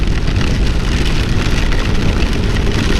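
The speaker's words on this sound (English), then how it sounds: "It's raining for 30 minutes straight now" Steady rain pours down in a dense, constant hiss with no let-up, close and fairly loud throughout, with no voices.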